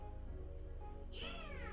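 Char, a pitch black cat in the game Calico, lets out one short meow near the end over a low steady background hum, no talk.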